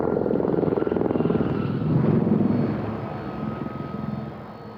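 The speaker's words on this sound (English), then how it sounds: "the Lynx and the Gazelle are military helicopters" Steady rumbling drone of Lynx and Gazelle military helicopters flying overhead at an air show, with a pulsing rotor throb that swells and then slowly fades.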